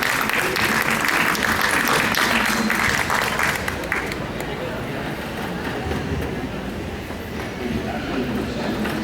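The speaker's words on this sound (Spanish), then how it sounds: "Queremos pedirles un fuerte aplauso para ellos e invitarlos a que suban al estrado." A crowd at a formal presentation gives loud, dense applause for participants invited onto the stage; the clapping is strong at first, then fades into a rumbling, murmuring room noise.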